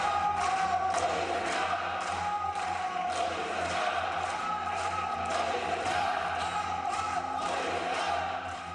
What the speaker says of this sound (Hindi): ये तालियां पीएम मोदी का अभिवादन है।